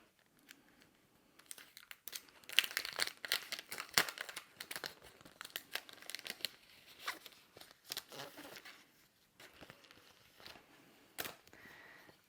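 Stickers for a bullet journal are handled up close, with crinkling, peeling and tearing of paper and backing sheets in quick irregular bursts, busiest at the start and then thinning into scattered rustles.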